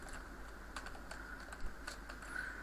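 Typing on a computer keyboard, quick light key clicks in an uneven rhythm, close and quiet over a low steady hum, no speech.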